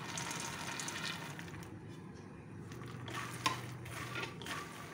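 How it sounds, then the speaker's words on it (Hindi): Roasted makhana is stirred in a pan with spices, giving a soft continuous sizzle and scraping under a faint hiss, quiet and close with one brief clink of the spoon. "हमारा जो भुना हुआ मखाना है, इसे थोड़ी देर हमें इसमें चलाना है।"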